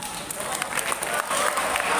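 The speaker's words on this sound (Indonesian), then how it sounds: "Tepuk tangan dong." An audience at a Ramadan Islamic study session in a pesantren claps in a brief burst of applause, a dense, steady patter of many hands filling the short moment.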